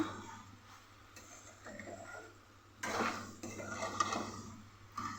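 A spoon stirs cashew and poppy seed paste frying in a pan, giving soft scraping and clinking of metal on metal that grows busier and louder midway, with a low hum underneath.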